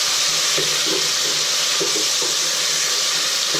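Water is poured into a pan of sautéed sardines with pechay, a loud continuous rushing splash and hiss with a few faint clinks beneath it and no talking.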